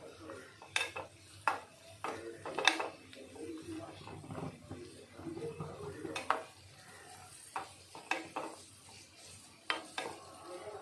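Cashews and raisins fry in a pan for a quick rice-and-moong-dal payasam while a metal spoon scrapes and clinks against the pan, giving close, irregular stirring taps over a faint sizzle.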